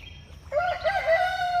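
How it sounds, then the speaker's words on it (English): A chicken among a flock of young chicks gives a single drawn-out, wavering call that rises out of a quiet background and holds for about a second. "All kinds of chicks."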